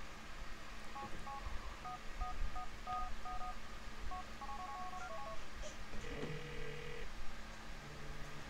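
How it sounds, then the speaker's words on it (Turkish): A mobile phone rings in Grand Theft Auto IV, a series of short electronic tone beeps repeating in a steady pattern over constant low game background noise, with a brief rising tone near the end. "Telefonum çalıyor."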